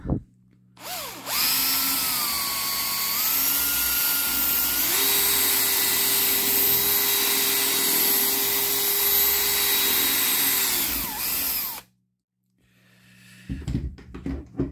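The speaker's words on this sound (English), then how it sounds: "use a bigger drill bit" A power drill with a bigger drill bit whines continuously at high speed for around ten seconds while drilling into a Matchbox K12 Foden Breakdown Truck toy model, its pitch shifting slightly, then cuts off, followed by faint handling noises.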